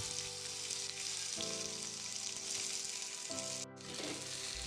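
Sliced onions dropped into hot oil with whole spices, cardamom, cinnamon and bay leaves, for a Bengali mutton curry, giving a steady close sizzle with a brief dip and faint clinks, no talking.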